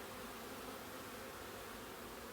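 Bees buzz around a hive entrance, a faint, continuous drone with no voices over it.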